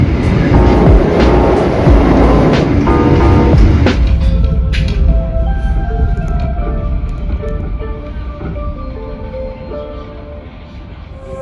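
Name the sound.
Gumarang passenger train arriving at Pemalang station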